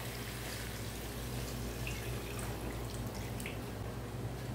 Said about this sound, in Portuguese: Agora vamos colocar água, pessoal, até cobrir o frango